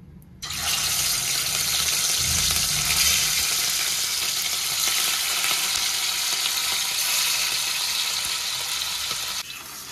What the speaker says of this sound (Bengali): তেল বসিয়ে দিয়েছি, তেল গরম হয়ে গেছে। আর মাছগুলোকে তো ভালো করে নুন হলুদ মাখিয়ে রেখেছি ধোয়ার পরে। আগে মাছগুলোকে ভেজে নেব।